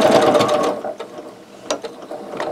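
A sewing machine back stitches across a fabric bowl potholder, a fast run of mechanical clatter that slows into short, separate bursts of needle action, close and fairly loud, with no voices.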